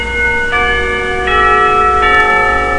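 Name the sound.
school lunch bell ringing in video game Katawa Shoujo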